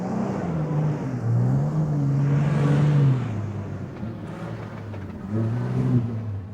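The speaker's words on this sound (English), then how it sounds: "If you don't have a camel, the easiest way to cross the dunes is by 4-wheel drive." A four-wheel drive vehicle crosses desert sand dunes, its engine droning steadily and rising into revving surges as it climbs and slides over the shifting surface, loud and close throughout.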